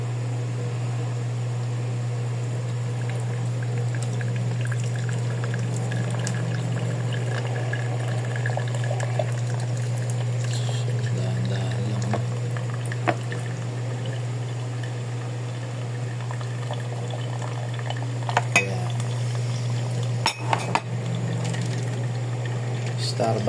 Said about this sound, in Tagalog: Tapos bubuhusan natin ng tubig.